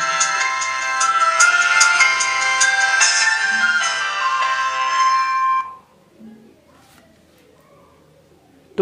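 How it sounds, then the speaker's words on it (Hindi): Startup tone of an Itel Magic 2/Max phone on reboot: a bright, loud ringtone-like melody of chiming tones for about six seconds, then cutting to near silence. "तो मैं इसको रिबूट कर देता हूँ।"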